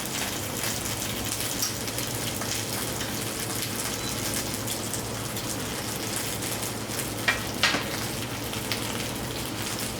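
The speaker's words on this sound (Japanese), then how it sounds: "揚げます。" Chicken thigh and new potatoes deep-frying in hot oil, a dense, even crackling hiss that holds steady throughout with a few slightly louder pops near the end, no voices.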